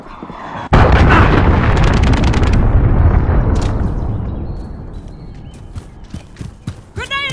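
A cruise missile strike in Call of Duty: Modern Warfare lands as a sudden, very loud boom followed by a long, rolling rumble that gradually fades, with scattered sharp sounds and a voice near the end.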